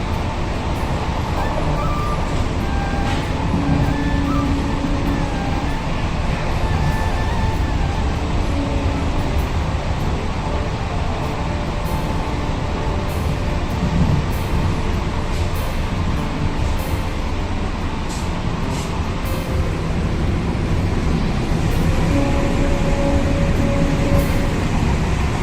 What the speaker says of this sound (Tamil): காலையில் ஃபஸ்ட்டு ட்ரெயினு செங்கல்பட்டு இந்த ட்ரெயின் தான் போகுது.